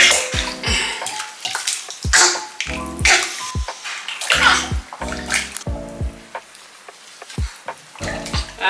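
A newborn's bath in a tub: repeated splashes and sloshes of water close by in an uneven rhythm, mixed with the baby's short grunting and fussing sounds.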